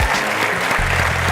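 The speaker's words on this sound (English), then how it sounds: "We should clap." A brief burst of audience applause during a motivational speech, loud and dense, with low musical tones underneath.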